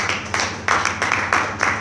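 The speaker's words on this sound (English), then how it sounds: "Clap your hands and celebrate church" A church congregation clapping in rhythm, a steady series of roughly six sharp group claps spaced evenly apart, fairly close and loud with a low hum beneath.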